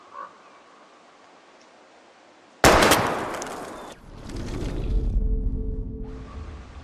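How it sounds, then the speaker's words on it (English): A single loud gunshot with a reverberant tail in Life is Strange as bottles are shot at, followed by rumbling, clattering aftermath; close and sudden after a quiet stretch. "We're gonna shoot all these bottles without wasting a single bullet."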